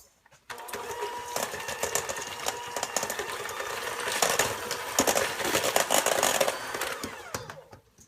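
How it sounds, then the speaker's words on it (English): An electric mixer whirs through cookie dough with egg and a tablespoon of vanilla extract just added, a close, steady buzzing rattle running for about seven seconds before winding down. "and then I'm going to mix it up just for a little bit"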